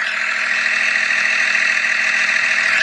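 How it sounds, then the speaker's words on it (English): A Cummins 12-valve diesel engine idling steadily, a continuous loud mechanical drone with a rattling, even hum and no variation. "12 hours Cummins 12-valve idling."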